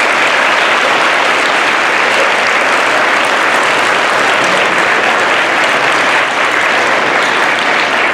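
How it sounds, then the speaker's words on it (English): A school Veterans Day crowd gives sustained, loud applause honoring veterans, a dense, even wash of clapping with no talking over it. "Let's give them a round of applause."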